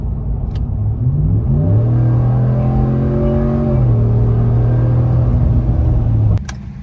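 A 2019 Ram 1500 with a K&N air filter accelerating from a roll with the windows up, engine note rising steadily in pitch through a gear then holding a loud, smooth drone before easing off.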